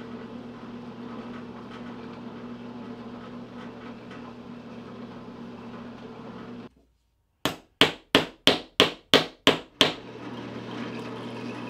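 T-nut hammered into a wooden clamp: seven sharp, evenly spaced hammer strikes ring out close and loud in quick succession, following a steady workshop hum that cuts out just before the blows.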